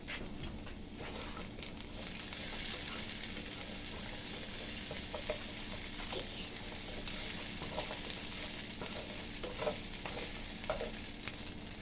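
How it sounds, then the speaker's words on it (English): Chopped onion sizzles quietly in a pan, a soft continuous fry broken by occasional stirring scrapes and light clicks, heard close and alone. "Saute the onion until it's looks like it's caramelized, a little golden brown."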